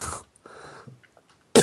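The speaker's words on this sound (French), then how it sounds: "Voilà, je t'ai toussé à la gueule" A person coughs sharply, then a softer breathy stretch follows before a second loud, close cough bursts out at the end; no talking over it.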